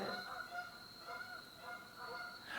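Geese honk at a distance in a quiet outdoor setting, a faint, steady stream of calls with no talking over them.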